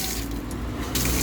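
Strong, steady gush of water from a tap, pressure boosted by a homemade rig of two soft-drink bottles, running loud and continuous with a slight surge near the end.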